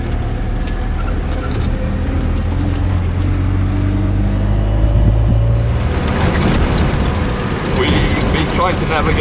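Car on a sandy desert route in the Moroccan Rally, a loud low engine drone and road rumble from inside, turning into rougher crunching and rattling in the later seconds, with voices talking over it.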